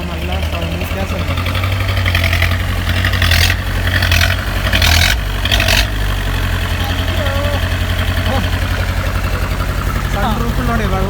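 A 1986 Mahindra jeep, left parked for eighteen years and with a broken silencer, idles after a cold start. Its low, rough, steady rumble continues throughout while people talk over it.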